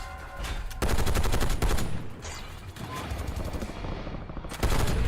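Video game gunshots ring out in dense rapid bursts, like machine-gun fire, loud and close, with short pauses between volleys and a mechanical clatter beneath.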